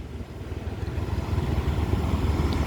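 A vehicle engine is throttled gently on a mountain road near Batu Busuak and Lembah Anai, giving a low, steady rumble that rises slightly with a faint wind-like hiss and no voices.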